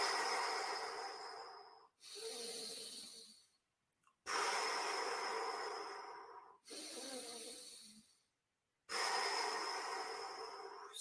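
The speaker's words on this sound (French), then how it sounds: "souffle, inspire, souffle, inspire, souffle," Slow breathing exercise in a mobility session, with long audible breaths alternating between inhaling and exhaling. Four or five drawn-out breaths follow one another, each separated by a short silence, and they sound close and fairly soft.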